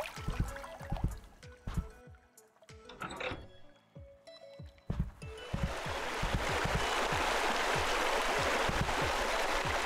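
Steady hiss of a sprinkler system spraying water in Pool Cleaning Simulator, rising in after a stretch of scattered clicks and knocks and then running continuously, fairly soft, with small impacts and taps underneath.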